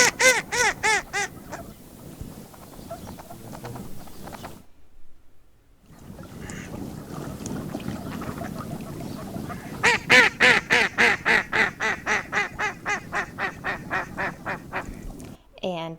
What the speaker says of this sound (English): The female mallard's call is the quintessential quack sound that many people associate with ducks.